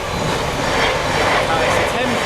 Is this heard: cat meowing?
no